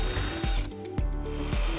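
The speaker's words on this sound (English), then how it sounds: "using the hitch as a template, we're going to drill through the rear body flange onto the other side" A power drill with a 7/16 bit bores through the steel rear body flange of a 2005 Buick Rendezvous during trailer hitch installation, giving a loud close whine with grinding and a few sharp clunks and catches as it bites.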